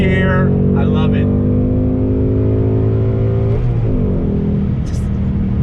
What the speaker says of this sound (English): rolling on throttle, second gear, third gear